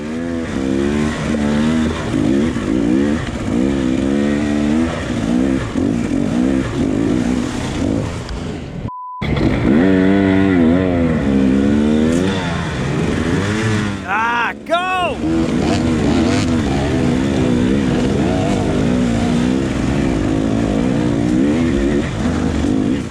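Dirt bike engine revving during a 2019 Tough Like RORR hard enduro pro race through a boulder field, with loud close revs rising and falling, a brief cut-out, then more throttle bursts under speech.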